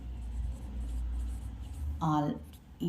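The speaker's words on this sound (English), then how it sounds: "here I will write" Chalk or marker writing on a board during a class 10 maths lesson, faint scratching strokes under a low room hum, with a voice briefly breaking in near the end.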